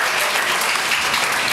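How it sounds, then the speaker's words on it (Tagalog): Audience applause for Mayor Jun Bernabe at a public event, a dense, steady burst of many hands clapping at once, loud and close, holding evenly throughout. "Palakpak po natin ulit si Mayor Bernabe."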